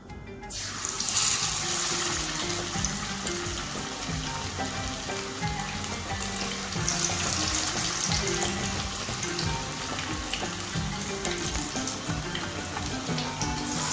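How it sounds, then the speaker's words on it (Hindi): Marinated battered fish hits hot oil in a pan and fries with a loud, dense, unbroken sizzle that starts abruptly and continues steadily up close, with no talking. "फ्राई करने के लिए मैंने ऑयल जो है वो पैन में डाल दिया था और इसको अच्छे से मैंने गर्म कर लिया है। अब हम इसमें अपनी फ़िश डालेंगे।"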